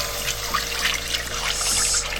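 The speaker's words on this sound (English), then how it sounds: "So this is that shrimp stock we made." Shrimp stock is poured into a pot of grits, making a steady, close liquid trickle and splash that runs throughout with no talking.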